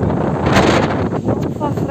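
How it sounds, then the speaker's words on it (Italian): Strong wind buffets the microphone outdoors during a walk, a loud continuous roar with gusts rising and falling, while someone talks under it. "Sentite che vento che c'è."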